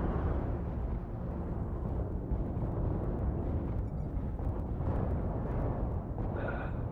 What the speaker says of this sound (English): Damn airstrikes.